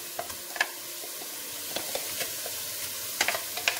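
Puréed fennel fries in a pan for a pork shank with lime dish, a steady close sizzle broken by scattered stirring scrapes and small pops, with no talking.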